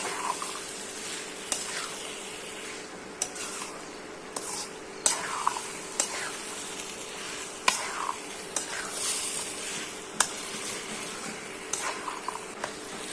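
Chickpeas for chola boot bhaji sizzle steadily in a frying pan while a spoon scrapes and clicks against the metal at irregular intervals, a close, continuous crackle with no talking.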